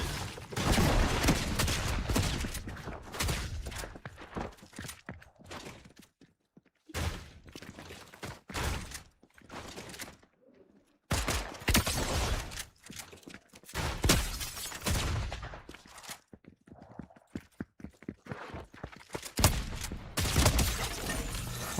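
Shotgun blasts in a shotgun-only video game match, heavy booming shots in rapid clusters with short pauses between bursts, loud and close throughout.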